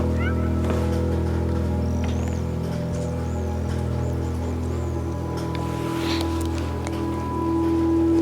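Several short, high meows from a cat in an open-world cat adventure video game sound over a steady game soundtrack and ambience, fairly close and moderately loud.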